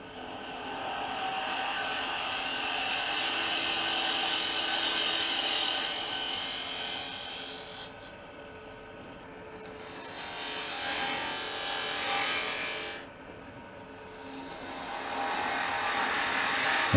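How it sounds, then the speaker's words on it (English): A woodturning tool cuts into a spinning wooden blank on a lathe while shaping a biscuit cutter, giving a continuous close scraping hiss that swells and fades as the tool sweeps around, with two brief quieter dips. "I'm starting that cut and then I'm just swinging the tool around"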